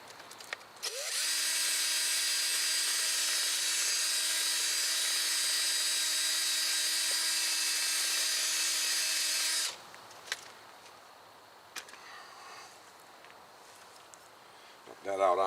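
A cordless power drill spins a gun cleaning brush inside the bore of a rear brake caliper on a 2017 Subaru WRX, a loud steady whine lasting about nine seconds before stopping, followed by quiet clinks and handling noise.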